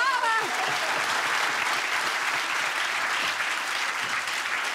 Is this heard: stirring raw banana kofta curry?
no